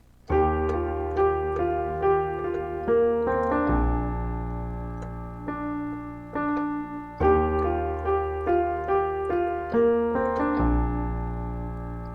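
A piano plays a simple repeating melody over low bass notes, the phrase heard twice with steady, gentle rhythm and no voices.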